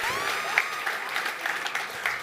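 Audience at a live talk-show music session applauds, with sustained clapping and scattered cheers filling the short stretch at steady, fairly loud level.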